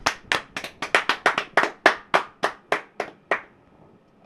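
A few people clapping in an ovation, a brisk series of crisp close claps that slows and thins out before stopping, then near silence.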